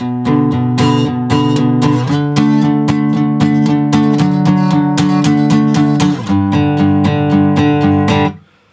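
A guitar in standard tuning plays the repeating melodic riff of a song over sustained chords, bright and close, ringing steadily before the final notes cut off.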